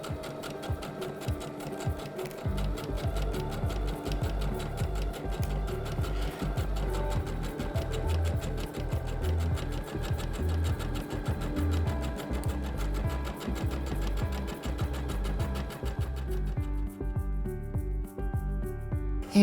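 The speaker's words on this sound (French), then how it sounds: "On passe maintenant à la machine à coudre et on va coudre à 1 cm du bord tout simplement." A sewing machine runs almost continuously while stitching a skirt seam 1 cm from the edge, a close, steady mechanical whir with fast needle ticking, easing off near the end.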